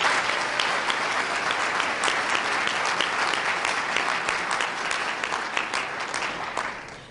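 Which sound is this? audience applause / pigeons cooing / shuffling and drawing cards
audience applause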